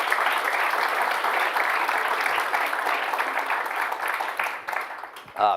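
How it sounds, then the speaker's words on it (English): A conference audience applauds the event's sponsors, sustained dense clapping from a large crowd that continues steadily and tapers near the end. "please, round of applause for all of our sponsors who made this possible."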